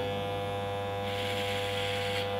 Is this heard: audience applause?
no